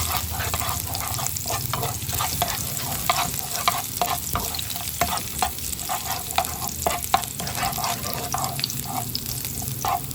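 Chopped garlic sizzles steadily in hot cooking oil in a pan, for an ampalaya (bitter gourd) dish, with a constant close frying hiss and frequent light clicks of a spatula stirring.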